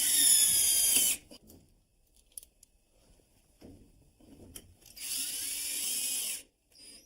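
A power drill drives screws to fasten a pipe clip to wood, whirring in two short loud bursts separated by quiet handling clicks.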